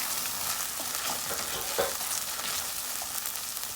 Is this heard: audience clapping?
no